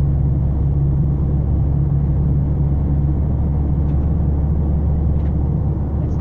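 Cars on a road in Tasmania, heard from inside a moving vehicle as a steady low rumble of engine and road noise that holds without a break, with no distinct pass-by standing out.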